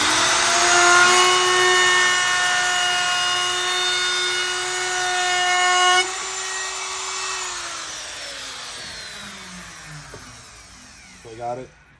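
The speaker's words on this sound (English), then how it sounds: "now I got the router set with a 1/2 inch round over bit. I'm going to run it on a test piece" A router fitted with a 1/2 inch round over bit whines at a high steady pitch as it cuts a wood test piece, then spins down gradually, ending with a few light clatters.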